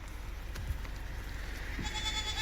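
Goats bleat at a livestock market in Chandwad, Nashik, a couple of short bleats over a low background rumble and crowd noise.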